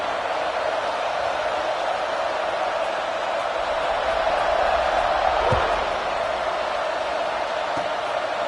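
Continuous stadium crowd roar in NCAA 25 college football, a broad steady wash of cheering at kickoff that swells slightly midway, with a single thud near the end.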